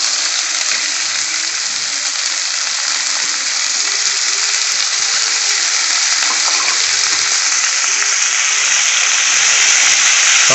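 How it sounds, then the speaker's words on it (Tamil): Chopped tomato and lentils fry in a pan for mutton kheema, producing a loud, steady, dense sizzle that runs unbroken throughout and swells slightly toward the end, with no voices. "பருப்பையும் நல்லா வதக்கி விட்டுக்கோங்க."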